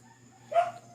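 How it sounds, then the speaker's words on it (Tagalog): A single short dog bark rings out, moderately distant, outside a house at night, over a quiet background with faint steady hum. "So kung naririnig nyo ang tahol ng aso no"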